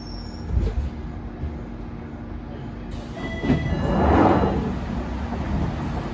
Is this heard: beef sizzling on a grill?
no